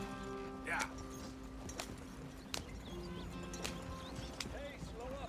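Horse hooves trot in Red Dead Redemption 2, a steady clip-clop of soft, regular hoofbeats under voices talking, set against faint outdoor ambience.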